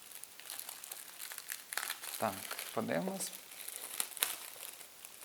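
Crinkling of a plastic bag while unboxing the Eschaton board game, an uneven rustle that runs throughout under a man's brief speech.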